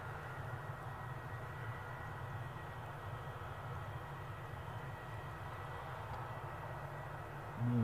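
An easyJet airliner roars at Newcastle airport, its engine giving a steady, loud drone that holds at one level the whole time, with no talk over it.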